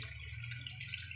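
Water is poured into a cooking pot while arroz valenciana is being prepared, a steady, soft rushing stream lasting about a second with no talk over it.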